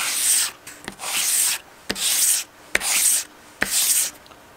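A guitar bridge is sanded smooth for a Fishman Ellipse Matrix pickup install, with five loud, close back-and-forth rubbing strokes separated by short pauses and small taps, with no talking.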